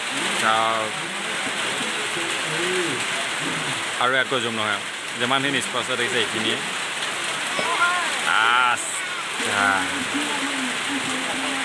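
Heavy rain hisses steadily over a village football game, a constant wash of noise beneath someone talking throughout.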